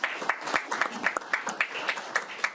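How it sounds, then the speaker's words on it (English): Scattered clapping from a small group in a committee hearing room, irregular claps close together at moderate loudness, with a voice briefly audible underneath. "I'll just give you a round of applause for all of you that are here today"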